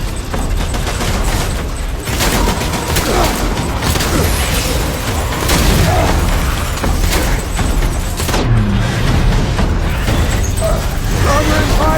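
Video game Death Stranding combat with dense gunfire and booming explosions, loud and continuous with rapid bursts throughout, and voices shouting over the battle.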